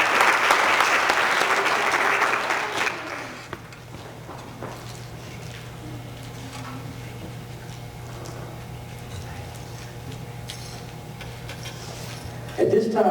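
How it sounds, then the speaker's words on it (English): An audience at a county school board meeting applauds its school principals, loud clapping for about three seconds that fades into a quiet room with a low hum and a few scattered claps before a brief final burst. "Can we give all of our principals a round of applause?"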